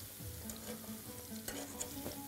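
Steak sizzles steadily as it fries in a pan and is stirred and turned, with soft scraping touches over the continuous close crackle.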